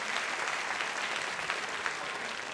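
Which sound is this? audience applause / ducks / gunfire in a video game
audience applause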